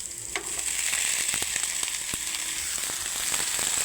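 Mixed vegetables sautéing in a pan, a bright constant sizzle with repeated sharp clicks and scrapes of a utensil stirring them through.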